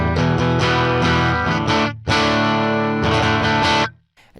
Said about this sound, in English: I'll show you what it sounds like on the bridge. I think it breaks up, definitely, like you get a little bit of distortion